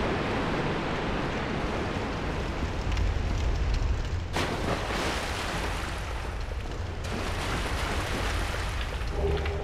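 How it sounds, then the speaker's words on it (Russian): Rushing waterfall in Dark Souls Remastered, a dense continuous roar of falling water that holds steady and grows slightly fuller in the second half, loud and unbroken with no talk. "Ой, там водопад, ну нафиг."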